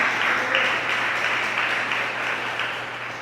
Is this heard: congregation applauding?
yes